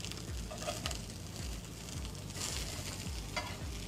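Food sizzling and frying in a pan alongside grilled sturgeon, a continuous close hiss with repeated stirring and scraping strokes at a steady rhythm, no voices.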